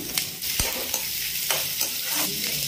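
Onions and mixed vegetables with curry leaves, sesame and mustard seeds frying in a pan, a loud steady sizzle broken by repeated scraping stirs of a spoon, with no talking.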